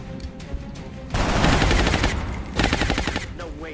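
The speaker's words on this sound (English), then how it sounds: "Take a shot with that powerful SMG." SMG fire in the XCOM Long War video game: a loud, close burst of rapid automatic shots follows a short lull, pauses briefly, then rattles again in a second burst.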